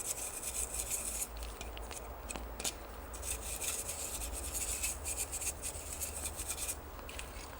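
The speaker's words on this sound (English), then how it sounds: "So I'm just going to use a brush here and clean all this up." A small brush scrubs gunk from inside a Star Trek Playmates communicator toy during repair, giving close, faint, continuous bristly scratching with repeated strokes.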